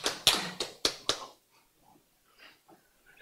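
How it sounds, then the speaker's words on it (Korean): Several sharp hand claps in a quick irregular burst at a Bible lecture, fairly close and crisp, followed by quiet with faint murmuring voices. "박수."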